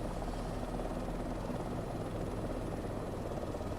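An H125 helicopter flying in Microsoft Flight Simulator 2024 on a trip to Whistler, a steady, even rotor and turbine drone that holds constant throughout with no voices.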